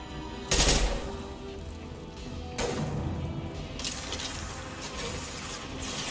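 An M15 Vindicator battle rifle fires in Mass Effect 2, with loud, close bursts of rapid shots and quieter crackling fire in between, and no voices over it.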